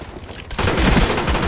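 Gunfire from the video game Black Ops: after a quiet half second, loud continuous rapid shooting bursts in and fills the rest of the moment, dense and close.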